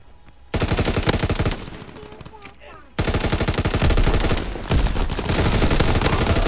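Rapid automatic and single-shot gunfire from the World War II shooter game Call of Duty: WWII, loud and dense, with bursts pausing briefly then resuming in sustained volleys.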